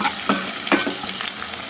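Mustard seeds, cumin and chopped green chillies frying in hot oil with a steady bright sizzle, while a spoon stirs with a few clicks and scrapes against the pan, close and without talk.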